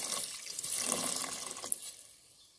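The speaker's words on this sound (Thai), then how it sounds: "ตามด้วยน้ำสะอาดเลยนะจ๊ะใส่ให้ท่วมไปเลยนะ" Clean water pours into a pot of Thai chicken curry with a soft, continuous splashing hiss that tapers off toward the end.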